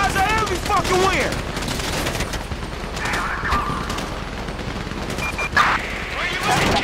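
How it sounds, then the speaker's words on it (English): Rapid bursts of automatic gunfire and single shots crackle through a firefight in Grand Theft Auto V, loud and dense, with voices talking over the shooting. "You hear that gunfire?"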